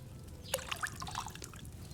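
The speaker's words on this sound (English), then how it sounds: "Pour the necessary base into the cauldron." Potion base poured into a cauldron while brewing in Kingdom Come: Deliverance 2: a short splash followed by a few soft drips and trickling liquid sounds, moderately close and fairly quiet, with no talking.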